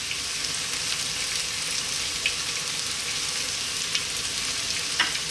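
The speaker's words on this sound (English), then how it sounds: "I'm now going to drop in our potatoes, our parboiled potatoes." Parboiled potatoes fry in a pan for a dry potato curry, giving a steady, even sizzle with faint crackles and a few louder pops, close and without talk.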